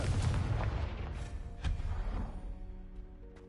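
A Confringo blast spell explodes in the video game Hogwarts Legacy, a loud booming burst that rolls on with rumbling debris and a second thump before tailing off into lingering tones.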